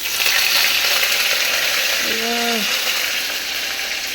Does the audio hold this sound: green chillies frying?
yes